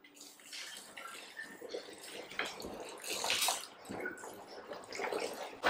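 Hot water poured onto pounded banga palm fruit while making banga soup, a close, uneven splashing and gurgling pour that swells and fades in surges, with no talk over it.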